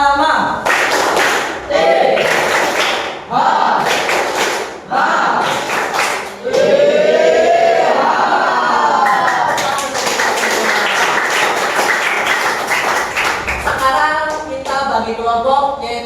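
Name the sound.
class doing rhythmic clapping game tepuk piyama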